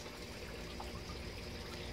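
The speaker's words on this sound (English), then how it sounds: "I'm going to water my newly transplant rootstock, citrus cuttings." Water is poured steadily over newly transplanted citrus rootstock cuttings in a greenhouse, giving a continuous, even trickle and splash with no break and no talk.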